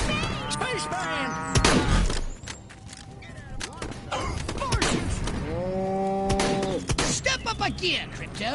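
Game cattle in Destroy All Humans! Remake let out a drawn-out moo near the end, after a stretch of busy game sounds, thumps and character voices.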